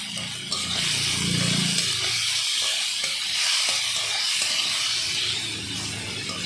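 Onions and tomatoes fry in a pan with salt and turmeric, giving a steady, close hiss and sizzle that holds throughout with no talking.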